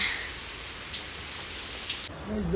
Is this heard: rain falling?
yes